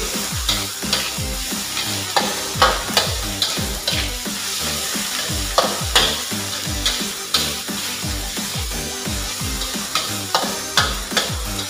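Papaya leaves sizzle loudly in a hot pan with anchovies and chili while a utensil stirs and scrapes in a quick, uneven rhythm; no one speaks.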